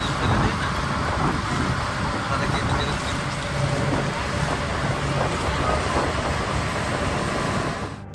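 A ferry vessel heads down the river from Diamond Harbour toward Digha through wind and rain as darkness falls; a steady, loud rumble with a wind roar fills the whole stretch without a break.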